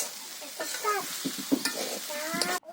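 Jackfruit frying in plenty of hot oil, a steady close sizzle with a few scraping stirs, ending in a sudden cutoff.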